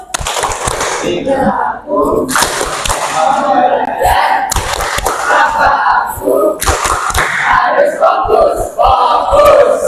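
A school class claps in a quick, loud rhythmic focus-clap pattern, with bursts of sharp claps and voices chanting along in a lively classroom.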